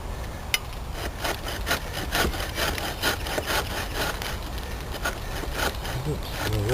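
A Gerber SaberCut hand saw cuts a wedge into wood with steady, rhythmic back-and-forth rasping strokes, close and fairly loud, with a bump near the start.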